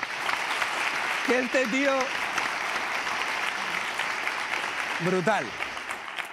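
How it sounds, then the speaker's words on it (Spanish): A comedy show audience in Spain applauds steadily throughout, a dense wash of clapping from the crowd while a host's voice speaks over it twice. "un fuerte aplauso"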